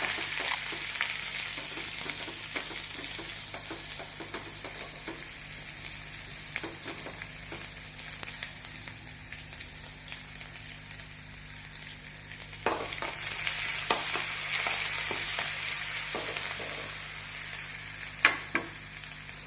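Crushed ginger, pepper and garlic frying in a pan give a steady, close sizzle with occasional sharper crackles, and the sizzle grows a little louder and busier in the later part.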